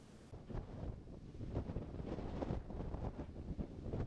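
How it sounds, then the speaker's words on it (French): Violent wind gusts across an island coast, buffeting the microphone in loud, uneven surges with a rough roar throughout and no voices. "Le vent violent qui s'abat sur l'île ces temps-ci a effectivement engendré des dégâts considérables."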